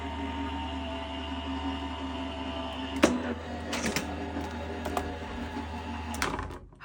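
A Gemini die-cutting and embossing machine runs steadily with a constant motor hum and a few sharp clicks and knocks along the way, with no talking.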